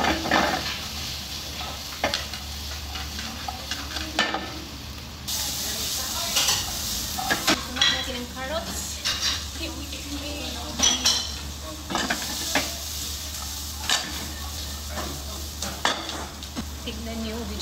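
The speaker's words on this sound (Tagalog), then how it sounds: "Masarap na i-stir-fry natin ng vegetable." Sliced sayote and carrots stir-fried in a pan, with a steady sizzle under repeated scraping and clinking of a utensil against the pan, close up, with a little talk.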